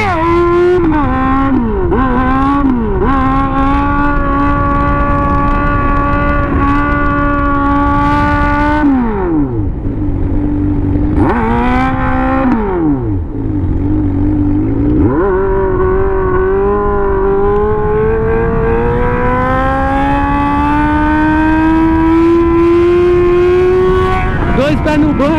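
A Honda Hornet motorcycle engine hums loudly and steadily while riding, rising and falling in pitch as it shifts and accelerates, with the engine tone climbing smoothly over the last stretch.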